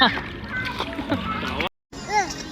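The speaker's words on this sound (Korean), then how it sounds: "우와 신이가 수영해 우와" A 13-month-old baby splashes water while swimming, choppy close splashes and sloshing mixed with excited adult voices, broken by a brief silent gap.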